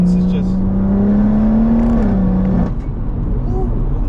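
Stage 3 big turbo BMW M140i engine given a light throttle blip, a loud close droning rumble whose pitch rises slightly then settles back to idle, with voices talking over it.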